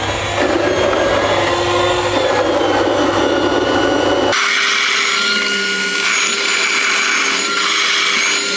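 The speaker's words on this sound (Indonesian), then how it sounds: "Bubuk kopinya masukin jangan sekaligus ya, nanti grindernya digiling." Coffee beans are ground in an electric coffee grinder, a loud, harsh motor whir that runs for about four seconds, then cuts to a quieter, higher whine.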